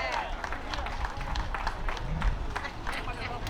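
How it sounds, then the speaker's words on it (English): A crowd gathered outdoors in the heat for the 2026 Paterson city inauguration ceremony applauds steadily, a dense, continuous wash of clapping with a murmur of voices beneath. "so a round of applause not only to the people that put this together"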